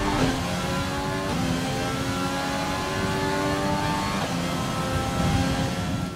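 An F1 car with its DRS open, driven in the F1 2020 video game, pulls hard with a steady, loud, high engine drone and rising gear-by-gear pitch sweeps, heard alone and without speech.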